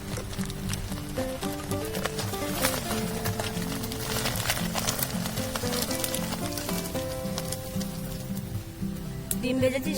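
Bird eggs fry in hot oil in a pan during outdoor cooking among field trees, a continuous crackling sizzle with sharp pops and spits, accompanied by steady tonal background sounds.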